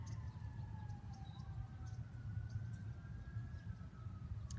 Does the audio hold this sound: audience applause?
no